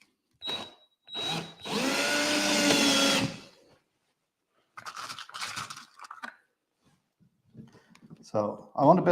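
A power drill driving screws into wood whirs in a few short bursts and then one longer steady run, loud and close, with quieter clattering and movement afterward.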